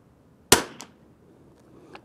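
A single sharp crack from an old .22 rifle firing match ammunition outdoors, near and loud, with a short decaying tail and a faint second tap about a second later, no talk.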